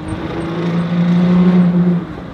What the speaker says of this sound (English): The previous years of Raptors had horrible exhaust notes, but now that sounds way better.